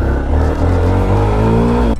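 A Yamaha FZX motorcycle engine revs loudly and steadily up close for about two seconds, with a strong, continuous tone that cuts off abruptly at the end.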